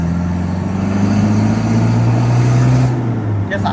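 A Toyota D4D diesel pickup fitted with a plug-in throttle box pulls away and climbs through several gears, its loud, close engine drone rising and dropping in pitch at each shift, continuous throughout.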